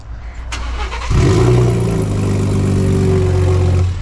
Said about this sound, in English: let's take a listen to that exhaust real quick